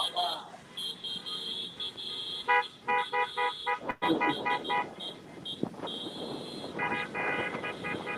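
Several car horns honk repeatedly in short and sustained blasts during an America's Birthday car caravan, overlapping amid busy street noise and crowd voices, fairly loud and close.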